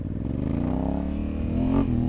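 A Honda Africa Twin motorcycle accelerates hard in first gear, its engine note rising loud and close in pitch over two seconds with wind rumble around it.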